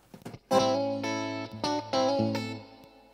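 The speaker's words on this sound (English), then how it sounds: "Let's hear the triamp." An electric guitar plays a few strummed chords through a tube amplifier, ringing out full and slightly driven before fading away.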